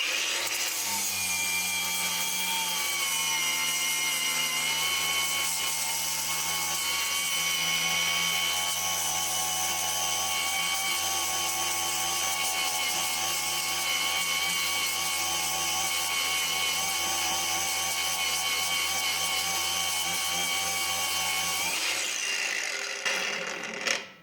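A HEIMERDINGER LB183 cordless angle grinder spinning freely without load, a steady loud high whine with a constant motor hum for about twenty seconds before it switches off and winds down.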